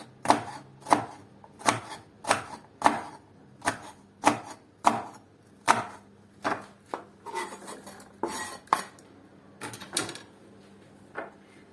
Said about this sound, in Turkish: Bir tane kapya biberimiz var. Bunu da çok ince olmayacak şekilde doğruyoruz.